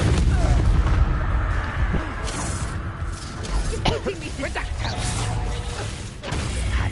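A Confringo blasting spell cast in Hogwarts Legacy, heard as booming, crackling blasts inside a loud, busy combat soundscape with repeated impacts and rumbling throughout.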